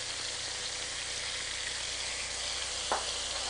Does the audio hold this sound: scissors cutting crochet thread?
no